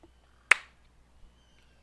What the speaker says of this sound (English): Claps her gauntlet to her breastplate for the traditional salute of her legion.